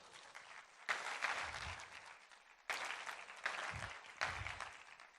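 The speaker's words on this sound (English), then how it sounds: "You guys give Jasmine a round of applause." Applause from a live audience at a motivational talk, honouring the speaker's girlfriend Jasmine; steady clapping that surges in several fresh waves, moderately distant in a hall.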